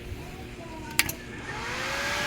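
A Pixpro MMA250 welding inverter is switched on with a sharp click, and its cooling blower fan spins up into a steady, rising whir that holds close by.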